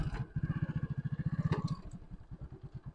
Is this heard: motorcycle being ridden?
yes